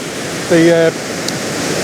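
Fast, muddy river water rushes around a bend as a steady, broadband roar throughout, with a short tonal vocal sound briefly rising above it near the middle.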